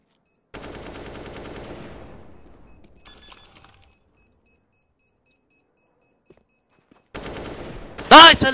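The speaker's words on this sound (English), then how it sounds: "we heard him take the first few shots" Rapid automatic gunfire in a Counter-Strike match between NAVI and OG, a loud burst that tapers off, then silence and a sharp renewed volley at the end with a high beeping or ricochet ring.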